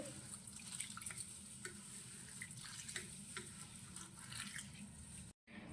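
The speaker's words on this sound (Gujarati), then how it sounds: "હવે આ દાળને આપણે એકવાર પાણીથી સારી રીતે ધોઈ લઈશું" Moong dal being washed with water for dal vada, a soft, faint continuous splashing and swishing with small drips and clinks, heard alone at close range.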